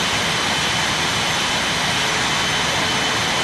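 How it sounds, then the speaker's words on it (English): An airliner taking off in a mobile flight simulator game on Android, a loud, constant jet engine roar with broadband hiss that holds steady from start to finish, with no voices. "You can see now the aeroplane is leaving the ground."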